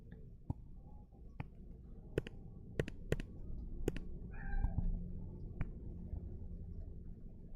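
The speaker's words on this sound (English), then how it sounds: "one of the cats squeaks" A house cat gives one short, high squeak midway, fairly faint, while sharp mouse or keyboard clicks tap out an irregular rhythm around it. Nobody speaks.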